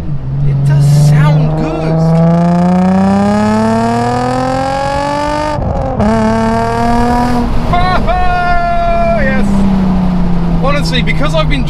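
A Nissan 350Z engine revs hard inside a tunnel, loud and close, its pitch climbing and falling through several throttle blips with gear-change dips, the roar echoing off the walls throughout.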